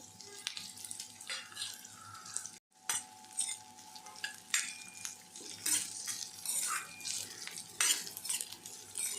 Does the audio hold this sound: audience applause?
no